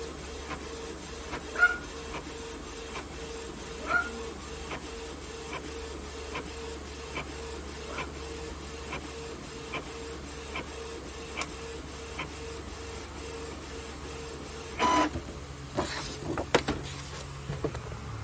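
A home printer runs through a card design: steady mechanical whirring with a rhythmic train of faint clicks and periodic carriage passes, ending in a few louder clunks as the sheet feeds out.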